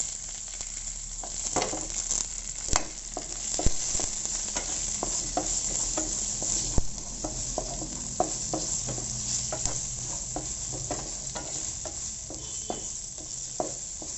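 Chopped amla sautéing in a pan for chutney: a soft, continuous sizzle of frying with frequent sharp scrapes and clinks of a stirring spoon against the pan, close and fairly quiet, with no talking.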